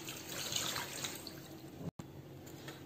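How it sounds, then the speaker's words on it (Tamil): Water is poured into a pressure cooker holding mutton with salt and turmeric for Dindigul thalapakatti biryani, a soft steady splashing stream, quiet and close, with a brief cut near the end. "கடைசியா இந்த மட்டன் முழுகிற அளவுக்கு நம்ம தண்ணி சேர்த்துக்கலாம்."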